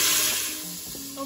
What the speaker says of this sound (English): Can you hear that sizzle? That's telling you flavor and browning is happening here.